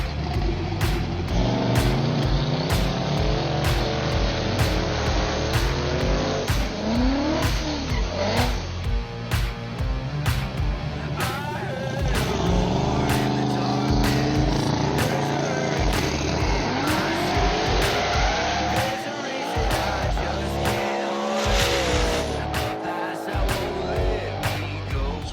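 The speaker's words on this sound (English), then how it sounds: "Third race is Pete with the Mustang and Swanko with his old badass Camaro" A Ford Mustang and an old Chevrolet Camaro street racing on a Chicago street, engines roaring loudly and continuously through hard acceleration and gear changes, with crowd noise under the sustained engine sound.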